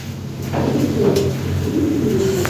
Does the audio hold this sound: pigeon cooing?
yes